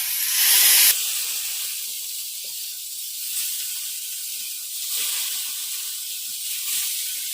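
Fish laid into hot sesame oil on a hot griddle, a loud hissing sizzle that surges at the start and then settles into a steady spitting fry, close up and with no voices.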